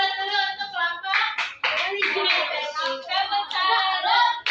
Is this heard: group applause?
yes